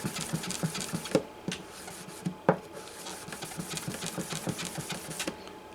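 Rhythmic wet sanding of a finish repair on a Gibson J-15 acoustic guitar, using Simple Green as lubricant, quiet repeated rubbing strokes close up with occasional sharper scrapes, no voices.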